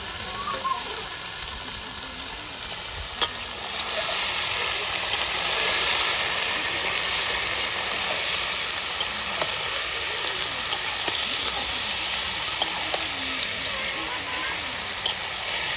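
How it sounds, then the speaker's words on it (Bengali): Meat fries in oil in a wok and is stirred, giving a steady, bright sizzle and hiss with scattered scraping clicks, and voices talk now and then over it. "মাংসটা সুন্দর করে কষিয়ে নিলাম"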